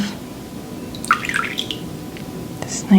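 Water dripping and trickling into a bowl of hot water during a soft-spoken skincare session, a few small splashes and drips over a quiet hiss, close and gentle.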